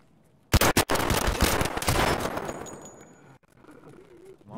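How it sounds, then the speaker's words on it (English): Loud burst of automatic gunfire in Escape from Tarkov, rapid shots packed together for about two seconds and then tailing into echo and quieter ambience. "I just shot him in his face!"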